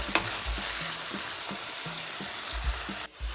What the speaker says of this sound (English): You want to cook your ground beef until it's all brown.